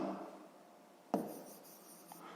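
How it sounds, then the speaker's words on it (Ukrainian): Numbers written by hand with a pen on paper for a sixth-grade maths exercise, a quiet soft scratching with one sharp tap of the pen partway through and faint strokes afterward, no voices. "Записуємо, що це числа."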